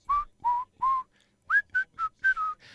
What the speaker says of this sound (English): Whistle, baby.